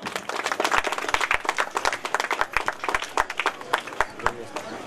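Church congregation applauding to welcome visiting pastors, sharp irregular claps across a steady crowd clapping wash, fairly close, with voices mixed in throughout.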